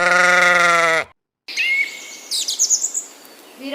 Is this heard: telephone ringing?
no